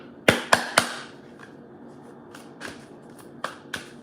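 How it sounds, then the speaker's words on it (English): Tarot cards being shuffled by hand, a quick burst of three sharp riffling snaps followed by a quieter pause and then several more scattered card slaps, close up with no voices. "I'm going to shuffle some more"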